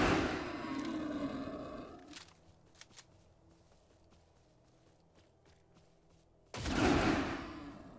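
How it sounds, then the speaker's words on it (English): Wild boars rushing in a video game shooter, with loud bursts of grunting and roaring at the start and end framing a quieter stretch of faint footsteps and clicks. "More boars."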